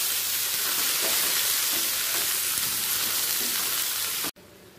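Paneer curry with garam masala being stirred in a pan, a loud, steady broadband sizzle with soft scraping running throughout before cutting off abruptly near the end.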